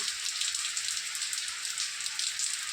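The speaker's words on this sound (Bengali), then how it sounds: "আমাদের তো এখানে একটু বৃষ্টি সকাল থেকে ঝিরিঝিরি ঝিরিঝিরি পড়ছিল এখন বেশ প্রচুর জোরে হলো এবার একটু কমে আসছে" Steady rain falls on nearby surfaces as a dense, even hiss with a faint patter of drops, easing after a heavy downpour.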